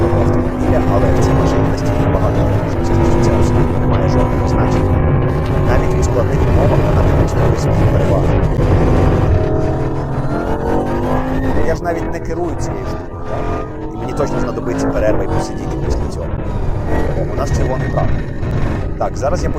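A Bugatti Bolide W16 track car drives at speed, its engine a loud, sustained roar with shifting pitch under continuous talk inside the cabin.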